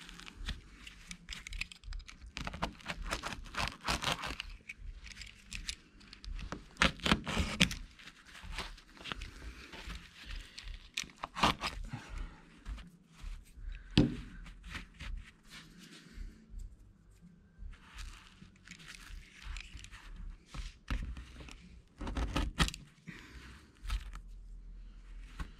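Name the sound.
cutting off excess carpet on a bass boat hatch lid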